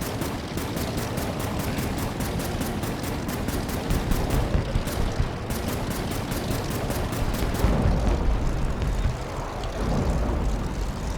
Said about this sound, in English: now I'm gonna start shooting those red planes